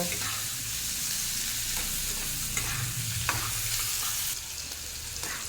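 Steady sizzling of onions and beans frying in a pan, with occasional scrapes and clinks of a utensil stirring through it.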